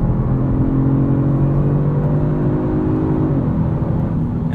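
A 2022 Genesis G70 3.3-liter turbocharged all-wheel-drive car pulls steadily under load, its drone rising gradually in pitch with a smooth, continuous whir and no break.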